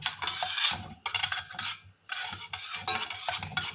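Flaxseed stirred in a saucepan gives repeated scraping, gritty swishes in bursts with short pauses, close and fairly loud, with no talking.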